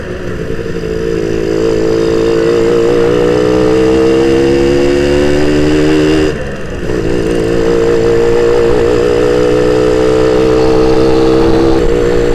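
A Suzuki Satria 120 R two-stroke motorcycle engine revs loudly up close, its raspy pitch climbing steadily, dropping briefly, then rising again in a sustained rev.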